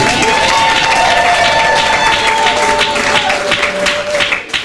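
A church congregation applauding and cheering at a lively worship service, sustained loud clapping mixed with crowd cheers and tonal music or voices, fading slightly at the very end.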